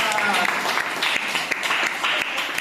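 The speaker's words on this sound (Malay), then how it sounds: "Tepuk tangan." A classroom of students applauds together during a lesson, with steady, dense clapping that holds at an even level throughout and a few sharper individual claps standing out.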